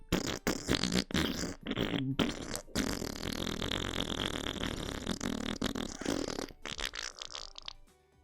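A comic fart sound effect in the visual novel A Kiss for the Petals: Maidens of Michael, a long sputtering, rumbling blast with choppy bursts that trails off quietly at the end.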